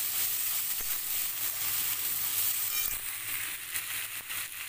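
Chunks of potato and pumpkin frying with onion in a pan give a steady, close sizzling hiss that runs unbroken throughout, with faint stirring scrapes underneath.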